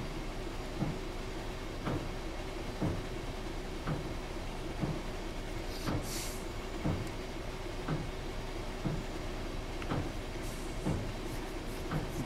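A Class 66 freight diesel runs in a Train Sim World 5 simulation on a snowy Bletchley to Willesden Junction route, a steady low rumble marked by regular rhythmic wheel clunks over rail joints.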